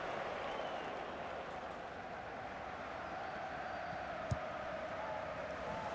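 A stadium crowd in the FIFA 18 football game gives sustained applause and broad murmuring, a steady wash of noise broken by one brief sharp knock.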